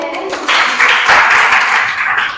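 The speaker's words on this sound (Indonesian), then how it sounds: "tepuk tangan untuk Janis." Classroom applause for a student named Janis, a burst of many hands clapping close by, rising quickly and staying dense and loud for about two seconds.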